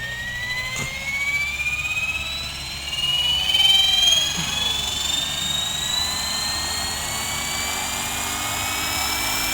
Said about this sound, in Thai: ปล่อยแล้วก็กดคำว่า Run ลั่นรอใบพัดให้หมุนจนสุดเสียงฟังนะครับ